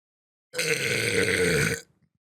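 A single long, loud burp from a person, lasting over a second with a rough, croaky tone, heard alone and ending abruptly.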